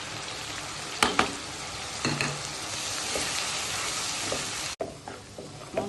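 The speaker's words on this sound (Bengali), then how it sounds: "মশলা কষানো হয়ে গেছে" Spices sauté with onion and garlic paste, salt, turmeric, chilli, coriander and cumin powders for a fish curry, giving a dense continuous sizzle with several sharp stirring scrapes, close and fairly loud, without speech.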